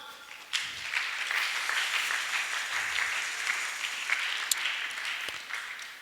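An audience claps in a steady burst of applause that runs throughout, with a few sharper individual claps standing out over the dense patter at moderate distance.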